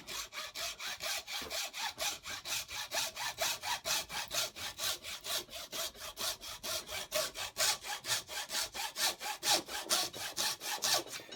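A hand saw cuts a small piece off the quick release part of a large vise, loud, close, even back-and-forth strokes at a quick steady rhythm throughout, with no talking.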